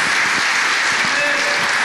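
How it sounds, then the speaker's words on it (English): A church congregation claps in praise for a visiting preacher, a steady, dense wash of many hands applauding together that fills the room without a break for the whole stretch. "let's give the man of God a hand clap of praise"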